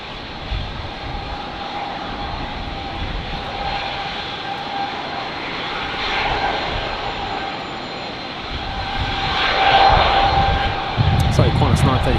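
A Qantas airliner, flight 935 bound for Perth, takes off at Brisbane Airport on a windy day, a steady broad jet engine roar building and swelling toward the end, with a brief voice heard under it.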